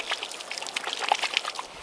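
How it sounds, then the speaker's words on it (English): Water trickles from the spigot of a roughly 5-gallon camping water jug, a steady close splashing dribble with small bright droplet sounds, alone without talk. "This is a water jug that has a spigot on it."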